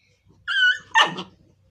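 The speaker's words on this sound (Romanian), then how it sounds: "s-a auzit cățelul" A dog in a Fire Free game gives two quick barks, the first drawn out like a yelp and the second a short sharp bark, close and clear.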